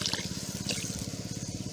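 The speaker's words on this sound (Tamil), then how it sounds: "இப்போ கொஞ்சம் தண்ணி ஊற்றணும்" Water poured into a pot of country crab rasam trickles and gurgles in a quick, uneven stream, close and fairly quiet.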